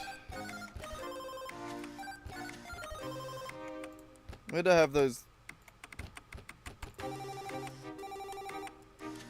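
A phone ringtone chimes in repeated bursts over close computer keyboard typing at a coding desk. A brief voice interrupts partway through, and the melodic ring pauses and then resumes.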